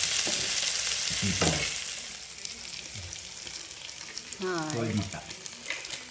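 Fried rice with broccoli frying in a pan, crackling sizzle with stirring scrapes in two bursts, close and moderately loud, with quiet stretches between.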